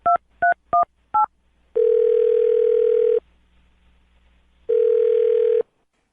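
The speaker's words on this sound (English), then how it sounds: "I'm dialing the phone number." A telephone call being placed: four quick dialing tones, then two long steady ringback tones separated by a silent gap, loud and close with no one talking.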